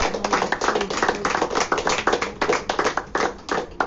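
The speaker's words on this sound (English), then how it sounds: "clap your hands for the Lord" A congregation at a Good Friday service claps hands in a loud rhythmic beat, the sharp claps repeating evenly and close for the whole stretch.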